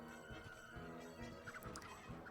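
Chickens in the video game MediEvil Resurrection give steady, low clucks and squawks that sound like fowl calls, set against a dense, constant game soundscape.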